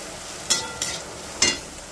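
A spatula scrapes through broad beans frying in a pan three times, short swishing strokes over a steady, soft sizzle.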